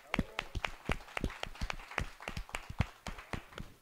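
Audience applause at an acoustic radio session, heard as a sparse, uneven run of individual claps from a small group, crisp and close with irregular spacing throughout.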